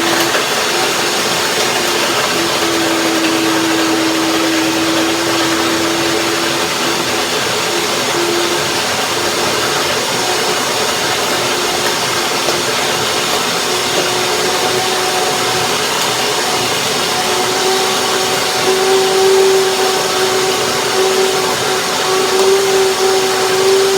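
A blender runs continuously on macadamia nuts and white chocolate, a loud steady motor whine with a sustained hum and faint pitch shifts as the load changes, with no speech.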